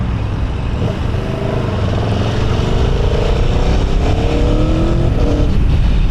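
A stock Aprilia Tuono V4 sport motorcycle engine revs up loudly and close by, its pitch climbing steadily through the gears.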